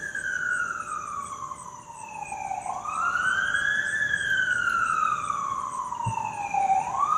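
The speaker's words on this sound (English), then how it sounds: "Sorry about that siren, if you can hear that." An emergency vehicle siren wails in long rising and falling sweeps, loud and steady throughout with no one speaking.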